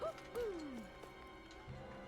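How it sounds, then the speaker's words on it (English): An owl in the video game Tales of Arise gives a couple of short, falling hoots close by, over a faint rainy ambience. "I hear an owl."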